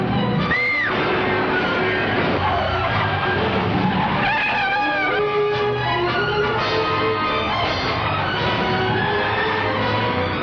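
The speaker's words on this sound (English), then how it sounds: "One of the most famous of motorcycle races is the annual 200-mile classic on the slippery, shifting sands of Florida's Daytona Beach" Racing engines roar and whine past with screeching skids during a motorcycle race on the sand of Daytona Beach, Florida, a dense loud continuous mix of rising and falling engine tones.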